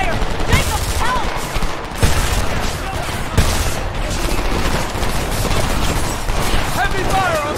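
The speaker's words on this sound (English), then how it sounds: "I'm under heavy fire!" Heavy gunfire rattles through a firefight in Homefront, with dense overlapping bursts of rifle and machine-gun fire and occasional louder booms, close and continuous, with shouting voices mixed in.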